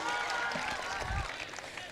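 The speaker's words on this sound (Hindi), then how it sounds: "उनके लिए एक बार जोरदार तालियां आप लोग की बजनी ही चाहिए" A mushaira poetry gathering audience in Itwa, Siddharthnagar, breaks into a brief burst of applause, a dense broad wash of clapping that stays even and then fades slightly over two seconds.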